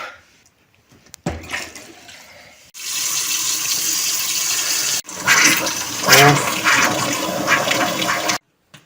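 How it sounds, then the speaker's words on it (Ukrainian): Water sprays and hisses out as pressure is released from a household pump station while its pressure gauge is being replaced. The spray is loud and continuous and stops briefly before surging again, with a voice heard over it. "Ух ти, почало прискати, тиск ще є."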